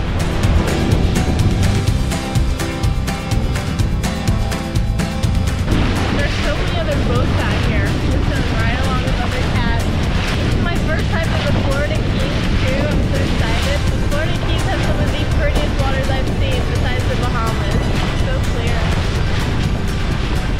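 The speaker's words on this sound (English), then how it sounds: "It's so windy, it's insane." Strong wind and waves rush around a sailboat at sea off the Florida Keys: a loud, continuous roar of buffeting wind and sloshing water under a person talking throughout.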